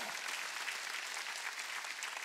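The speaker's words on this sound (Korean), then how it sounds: "박수야" A church congregation at a Wednesday worship service claps together in sustained, dense applause, a steady wash of many hands filling the room.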